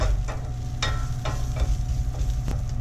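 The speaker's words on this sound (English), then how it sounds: "now it's been only about a minute or so that I've been stirring around the panang curry" Panang curry paste is stirred in a hot pan, a low sizzle with repeated scraping strokes of a utensil across the pan, close and steady with no talking.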